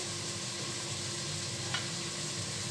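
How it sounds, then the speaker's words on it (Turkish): Two chopped onions and three cloves of garlic sautéing gently in a pot, giving a soft continuous sizzle with a faint steady hiss and a brief stirring scrape, fairly quiet and even throughout. "iki tane soğan doğradım. Üç tane sarımsak doğradım arkadaşlar. Bunu hafif kavuruyorum."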